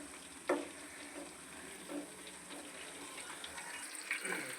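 Chicken pakodi frying in hot oil on a high flame, a continuous close sizzle with a few brief clinks and scrapes as pieces are turned.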